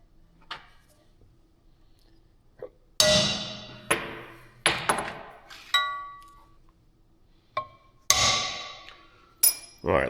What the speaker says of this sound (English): little center punch action